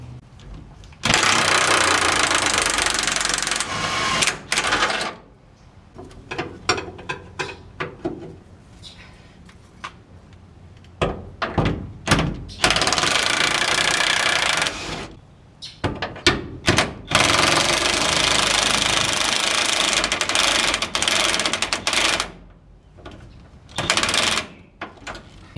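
On a Chevy Silverado or GMC Sierra, the bolts of a truck hitch are removed with a power impact tool in loud, close, repeated rattling bursts several seconds long, separated by quieter gaps and short clanks.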